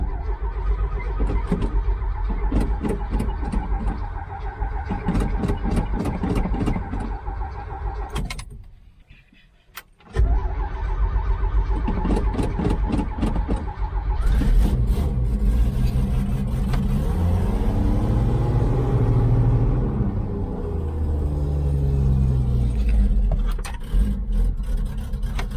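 An old 1981 Chevy C30 truck, started after sitting a year on choke: the starter cranks rhythmically, pauses briefly, then the engine catches and runs loud and rough before revving up and settling.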